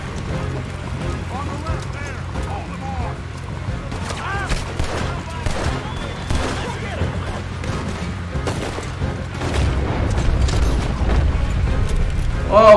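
Video game gunfire crackles in quick, repeated bursts under someone talking, growing heavier and denser toward the end.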